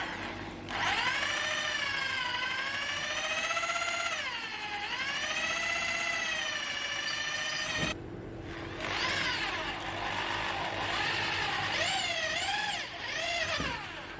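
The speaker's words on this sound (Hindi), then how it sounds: "थोड़ा सा चलाया मैंने और ड्रिल बिट जो है वो आर पार हो गई" An electric drill with a metal drilling bit boring through hard wood, whining steadily with a rising and falling pitch as the motor loads, stopping briefly and starting again for a second pass, close and loud.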